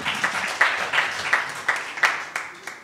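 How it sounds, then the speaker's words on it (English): An audience applauding at a science forum, a rhythmic unison clap landing roughly every third of a second over a softer bed of scattered clapping, fairly loud and close. "Let's clap for everyone now."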